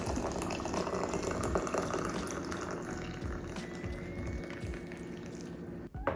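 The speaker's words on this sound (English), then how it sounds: "All right, then hot water in." Hot water poured from a kettle over yaupon holly leaves in a basic tea diffuser, a steady close liquid pouring and filling sound running throughout, with no talk.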